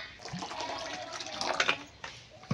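Water trickles and splashes softly into a thick rice-flour batter for chitoi pitha, a faint, close pour lasting a couple of seconds.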